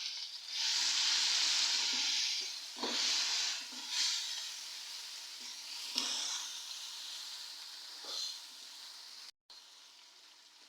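Chopped onion browning in a pan, a soft hissing sizzle that swells and fades with a few stirring clicks, quiet and close, with no voices.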